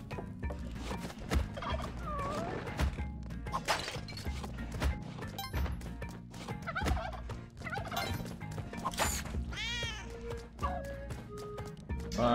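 Turkeys gobble repeatedly in the Spelunky 2 video game, bursts of warbling calls mixed with thwacks and crashes of gameplay over low game music.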